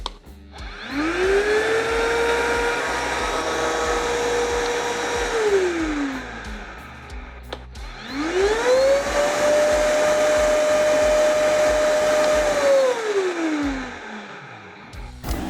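A Procraft VP20 cordless vacuum cleaner whirs up, runs steadily for several seconds, and winds down. Then it starts again for a second, similar run.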